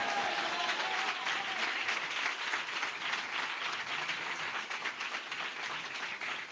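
Dense, steady clapping from a church congregation, loud and continuous throughout with no pauses and no talk.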